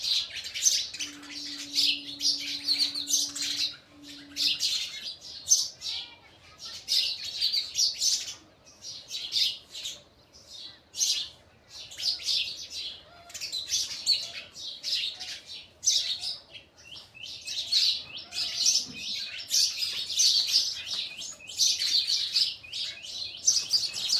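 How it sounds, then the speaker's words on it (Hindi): Many small birds chirp and tweet in the morning, a busy, continuous chorus of bright rapid calls near and around, rising and falling in bursts, with a brief faint hum early on. "चिड़िया सवार में बहुत सारा आवाज़ करती है, पर प्यारा लगता है उसकी आवाज़ मुझे तो।"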